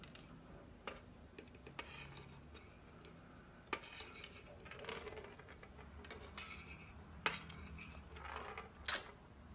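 A metal spoon taps and clinks against a dish in a few sharp, separate strikes spread over several seconds, fairly close and quiet, with faint scraping between the hits.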